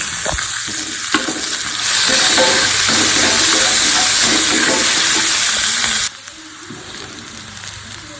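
Onions hit hot oil in a pan and erupt into a loud, steady sizzle and hiss that holds for several seconds before dropping back to a softer frying crackle.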